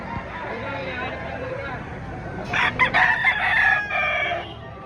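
A rooster crows loudly nearby at a chicken market in Lipa, Batangas, a drawn-out call following a stretch of background chatter and farmyard noise.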